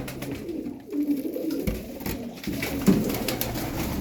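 Konya Kululu pigeons cooing close by, soft throaty rolling calls repeating over a low background hum, with no voices.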